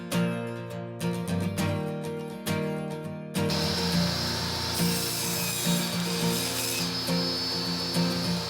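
A homemade table saw crosscut sled, adapted to a Craftsman saw's miter slot, makes a test cut through a wooden board. The spinning blade whines steadily and loudly as it bites into the wood, with no voices.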